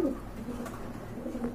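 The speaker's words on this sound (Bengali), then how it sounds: "এই যে দেখেন কবুতর গুলো দেখেন আপনারা" Pigeons coo steadily at close range, low murmuring calls repeating across the moment in a loft of breeding pigeons kept for sale, without any talking.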